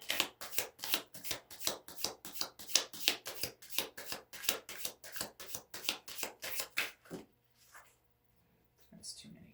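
Tarot cards being shuffled by hand in a rapid, even run of crisp riffling flicks that stops short, followed by a few faint handling sounds.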